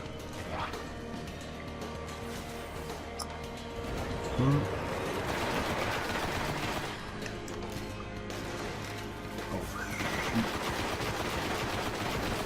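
Weapon fire in the video game Destiny, played in a player-versus-environment match, comes as a dense, continuous mix of shots and impacts with a few louder bursts, running throughout under game music and effects.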